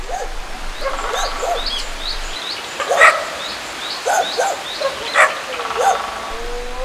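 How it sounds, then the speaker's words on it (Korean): Stray dogs on Bukhansan mountain bark loudly and repeatedly at an approaching film crew, a cluster of sharp yelps and woofs coming in uneven bursts, with some whimpering and birdsong in the background. "제작진의 접근에 놀라 큰 소리로 짖기 시작합니다."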